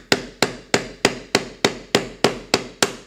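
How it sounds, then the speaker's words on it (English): Hammer blows strike a snap setter driver, setting Line 20 snap fasteners on soft leather over an anvil, ten sharp evenly spaced metallic taps, close and loud with quick decays and no talking. "again rotate it as you hit it, and we have a nice snap on the soft leather"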